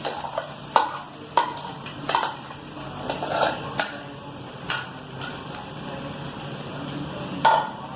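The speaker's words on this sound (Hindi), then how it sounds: "हमने आलू को अच्छी तरह मिक्स कर लिया।" A spoon stirs and knocks through mashed potato filling for a vegetable roll, giving repeated close scraping taps against a pot over a soft background hiss, with no speech.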